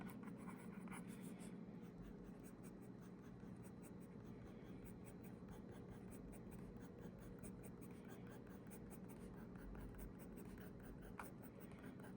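A steel fine-nib PM 4.5 fountain pen writes on paper, giving a soft, continuous scratching that is quiet and close against a faint background hum.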